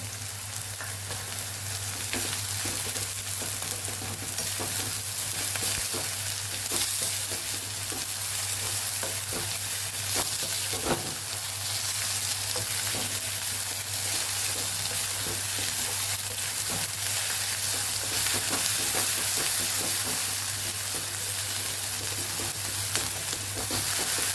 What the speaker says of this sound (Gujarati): અહીંયા આપણે સાથે જ આદુ મરચાં અને લસણની પેસ્ટને પણ સાતડી લેવાની છે